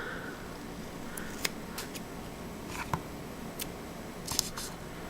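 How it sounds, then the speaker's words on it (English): Non-stick scissors snip around a rubber stamp mounted on cling foam, a handful of short, quiet cuts and clicks spread irregularly over a faint background hiss, with no voices. "you're just going to take your scissors and trim around"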